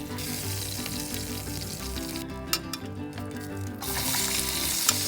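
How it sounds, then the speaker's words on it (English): Sliced carrots and potatoes sautéing in a hot pan after bacon has been cooked in it, a steady close sizzle with a few soft stirring knocks midway and no talking. "In the same pan, add the sliced carrots and potatoes and saute them until golden brown."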